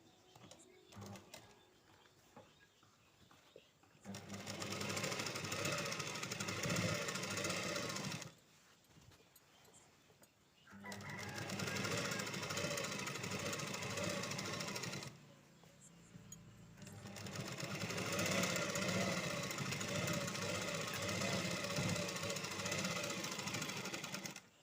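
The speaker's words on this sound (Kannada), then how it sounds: "ನಾವು ಬಾರ್ಡ್ರ್ ಪೀಸ್ ಮೇಲೆ ಸ್ಟಿಚ್ ಹಾಕಬೇಕು" A sewing machine stitches along a border piece for a puffed sleeve design, running in three long continuous bursts with short pauses between, close and steady.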